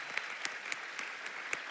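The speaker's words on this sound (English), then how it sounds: "Would you give a round of applause?" A church congregation applauding, steady dense clapping with a few sharper individual claps standing out, moderately distant and fairly faint.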